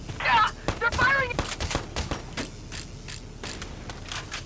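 Enemy gunfire in Valkyria Chronicles 4 comes as a series of sharp, fairly close shots with mechanical clanks. Voices speak briefly at the start, and then the shots go on alone.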